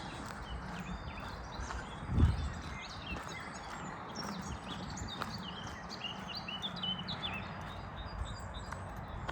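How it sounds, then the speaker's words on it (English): Birds sing in a spring valley in the Shire Brook Valley, Sheffield, with repeated bright chirps and calls at moderate distance over outdoor ambience and a brief low thump near the start. "The birdsong is just fantastic."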